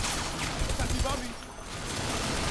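Gunfire in the video game Bodycount, a dense burst of shots amid noisy battle ambience, loud and continuous with a brief dip midway.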